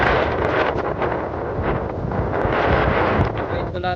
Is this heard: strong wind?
yes